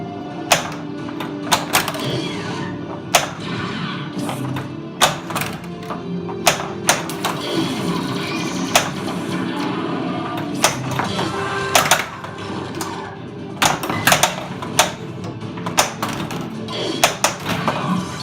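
Star Wars pinball machine in play, with irregular sharp clicks, flipper taps and ball knocks over a steady bed of electronic music and machine hum, close and fairly loud throughout.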